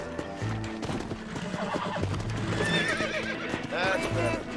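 Horse whinnying in Red Dead Redemption, a few close neighs over clip-clopping hooves while someone talks throughout.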